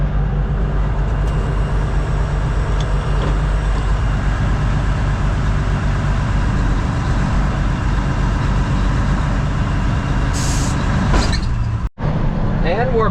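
A Mack truck running without an exhaust backs up to couple its fifth wheel onto a trailer, producing a loud, continuous, close engine rumble that holds steady and briefly cuts out near the end.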